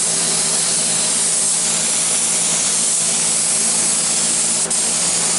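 PVA mould release is sprayed onto a gel coat mould in one continuous, loud, steady hiss that stays unbroken throughout, with no voices.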